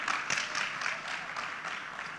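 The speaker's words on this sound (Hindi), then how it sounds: "एक बार जोरदार तालियां हो जाएं फॉर विकास दिव्यकीर्ति सर।" An audience applauds Vikas Divyakirti with a steady wash of clapping across a hall, moderately distant and fairly faint, holding evenly for a couple of seconds.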